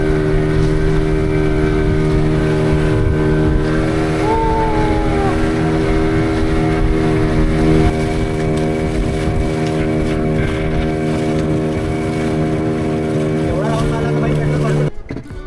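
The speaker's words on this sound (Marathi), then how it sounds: "ती बोट होती इंजिनवर चालणारी, म्हणजे मोटर बोट होती" An engine-powered motor boat crossing the sea toward an island fort drones loudly and steadily at close range, its hum constant throughout, with voices briefly audible over the engine.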